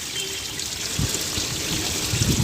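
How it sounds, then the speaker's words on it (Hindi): Water trickles and pours steadily out of a car radiator during a coolant flush at home, a continuous close splashing stream that swells slightly toward the end, with no voices. "ये देखो पानी अभी पूरा क्लियर आ रहा है।"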